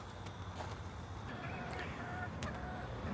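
Chickens near a backyard coop make faint clucks and short calls scattered through a low outdoor background, a few scattered sounds at a distance.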